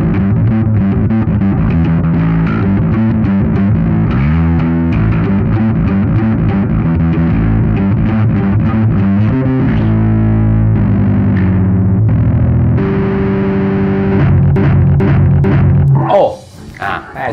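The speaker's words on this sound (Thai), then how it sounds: "มีเสียงแตกด้วย" Distorted electric bass riffing through the gritty, overdriven distortion effect of a Fender Rumble Studio 40 bass amp, loud and sustained, with the tone shifting between settings before a short voice near the end.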